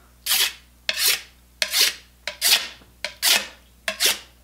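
A hand tool shaves thin strips off the aerofoil of a laminated hardwood boomerang, seven crisp rasping strokes in a steady rhythm, close and fairly loud with brief pauses between them.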